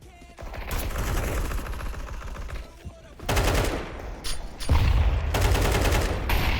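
AK rifle gunfire in Counter-Strike 2 comes as dense bursts of rapid automatic shots, loud and close, broken by short pauses between volleys.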